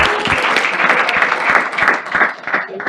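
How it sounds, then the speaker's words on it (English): An audience claps together at a talk on fibroids, steady dense applause close and fairly loud throughout, with faint voices mixed into the crowd noise. "Make una clap for my father"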